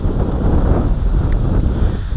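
Strong wind buffeting a microphone outdoors on a carp fishing trip, a loud, continuous rough rumble with no other sounds.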